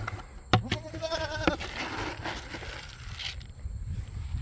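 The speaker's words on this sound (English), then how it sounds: "How you doing, goats? You having a nice sunny day?" Goats bleating on a sunny farm, one clear wavering bleat up close followed by softer animal sounds and scuffing, with a brief sharp knock at the start.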